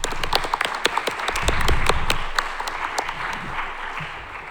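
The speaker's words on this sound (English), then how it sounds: "A quick round of applause for Rayan." Applause fills a room after a panel speaker at a computer science discussion, brisk and crowd-sized at first, swelling briefly, then thinning to scattered claps.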